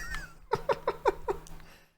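A cat in a video game released in 2009 gives a quick run of five short, chirpy meow-like calls in a row, close and clear, before fading to silence.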